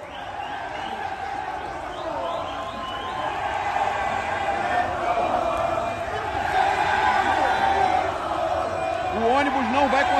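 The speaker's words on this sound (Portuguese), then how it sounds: "Nego, a torcida grita." Flamengo and Atlético MG supporters gathered outside before the Supercopa do Brasil final, a dense continuous crowd roar with shouting and cheering that swells slightly toward the end, nearby voices mixed in.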